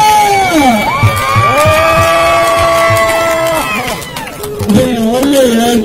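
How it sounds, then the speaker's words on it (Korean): A crowd at a street busking performance in Hongdae, Seoul, cheers loudly nearby, with drawn-out high shouts and whoops from many voices rising over scattered clapping and a brief dip before the cheering swells again. "네, 박수."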